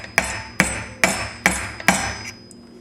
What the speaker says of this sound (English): we're just going to knock this out using a hammer and a little screwdriver